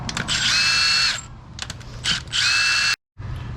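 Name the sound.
power tool removing cylinder head bolts on Scion tC engine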